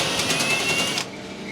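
A drill with an extension bit whirs on a screw inside an Electrolux clothes dryer, a close, steady high-pitched motor whine for about a second that then stops, leaving a quieter hum.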